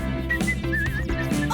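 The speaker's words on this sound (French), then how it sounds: "vous voulez bien arrêter de siffler?" Someone whistles a short wavering tune, with sustained background tones beneath it.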